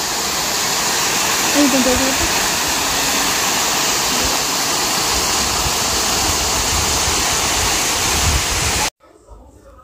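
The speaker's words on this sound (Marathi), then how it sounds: "पाण्याचा खडखडाट असा आवाज" A waterfall pours in a steady, loud, broadband rush of water that continues unbroken for several seconds before cutting off abruptly near the end.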